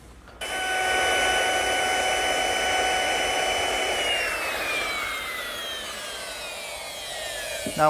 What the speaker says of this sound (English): I'm running a decorative chamfer right along the edge of all 4 pieces